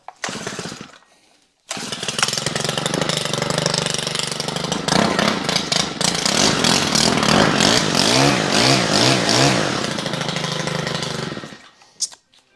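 A small two-stroke engine of a Stihl FS90R petrol string trimmer starts up and runs loudly at a steady high rev for about ten seconds, then cuts off, with no talking.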